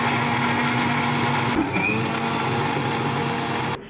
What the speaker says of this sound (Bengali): ব্লেন্ডার করা শেষ